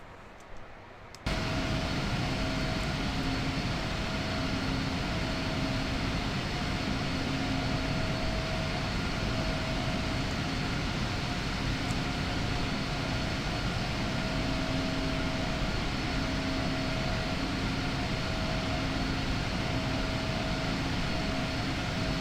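A PMDG Boeing 777-300 climbs out through 2,000 feet in bad weather in Microsoft Flight Simulator, its engines giving a steady, loud jet roar with a constant whine that runs unbroken after a brief quiet start.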